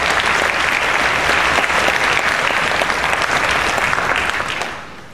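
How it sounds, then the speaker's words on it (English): A dense, even wash of audience applause fills a hall at a CMEA Capitol Section music education event, holding steady and loud before tapering off near the end. "So let's give them a round of applause."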